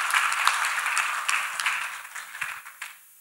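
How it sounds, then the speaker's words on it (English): A church congregation claps their hands for Jesus during a healing testimony service, a dense, fairly distant round of applause that fades out toward the end. "People of God, clap your hands for Master Jesus."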